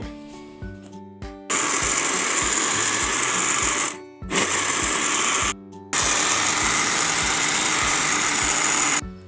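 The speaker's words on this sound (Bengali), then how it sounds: "এখন আমরা এটাকে ব্লেন্ডার করে নেব।" A kitchen blender purées boiled tomatoes for homemade tomato sauce, its loud motor whirring in three long bursts separated by short stops.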